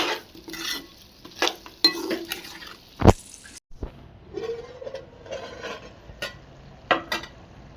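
Chicken fry being stirred in a pan with the lid lifted, with repeated scraping and clinking of a spoon against the metal, a sharp clack partway through, and a soft sizzle underneath.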